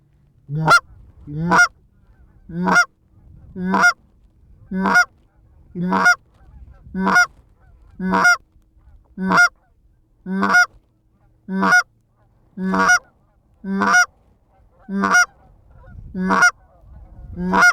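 Canada geese honking on a late-season Missouri River hunt, a steady series of about fifteen loud, evenly spaced honks roughly one per second, close and clear with no talk over them.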